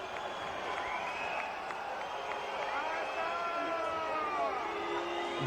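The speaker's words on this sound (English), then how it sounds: "The crowd don't like it." A rugby crowd at a Benetton versus Edinburgh match jeers and whistles in a sustained wash of voices, with rising and falling whistles over a broad roar, fairly distant and continuous, with a commentator talking.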